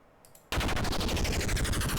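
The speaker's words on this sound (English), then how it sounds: "Big explosion is probably too big." Big explosion sound effect being auditioned for a game, starting abruptly after a quiet lead-in and continuing as a dense, rapid crackling roar that stays loud to the end.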